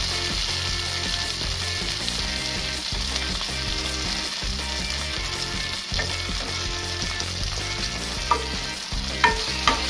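Tomatoes with ginger, garlic and chili paste fry for matar nimona, a loud, dense sizzle close by that runs continuously, with rhythmic stirring pulses and a few light clinks of a spoon toward the end.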